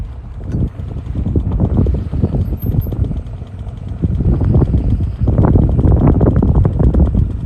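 Gusty wind buffets the microphone aboard a small boat in the Florida Keys, loud irregular rumbling bursts that rise and fall across the whole stretch.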